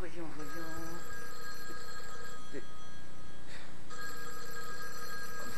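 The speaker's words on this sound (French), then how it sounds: "c'est le téléphone." An old-style telephone bell rings in sustained metallic bursts, fairly close and loud, in a French comedic scene; a voice speaks briefly alongside the ringing.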